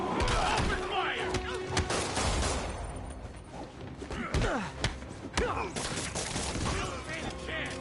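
Enemy gunfire rips through a Spider-Man video game scene in rapid, repeated bursts of shots mixed with crashes and thuds, with shouted voices among the chaos.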